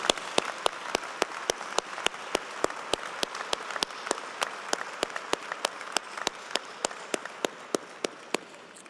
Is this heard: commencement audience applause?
yes